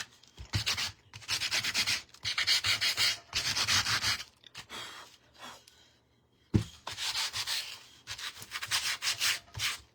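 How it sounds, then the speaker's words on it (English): Hand sanding a printed canvas sign mounted on rough 2x4 or 2x6 wood to give it a grungy, distressed look: close, rhythmic rasping strokes in repeated bursts with short pauses between, loud and alone. "You could actually sand it before, but I just waited till after."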